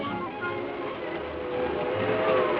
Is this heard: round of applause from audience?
no